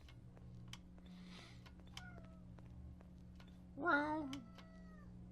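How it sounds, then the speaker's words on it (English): A pet cat meows once, a short, rising and falling call near the middle, heard close over a steady game soundtrack hum, with faint clicks and a brief word spoken before it. "My cat, not me."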